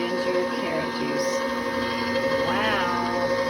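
A Caynel electric juicer whirs steadily while it juices apple, ginger and carrot, a constant motor drone with a brief rising whine partway through.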